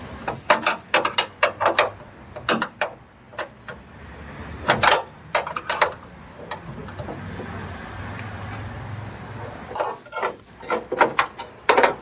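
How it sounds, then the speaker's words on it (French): An adjustable wrench in size 12 tightens a ball stud while fitting a gas strut hood lifter on a Volkswagen ID.4 or ID.5, making close, repeated metallic clicks and ratcheting taps in uneven bursts with pauses. "avec la clé à molette de taille 12, on serre ensuite le boulon à billes"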